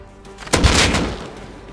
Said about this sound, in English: Your friend fired at me.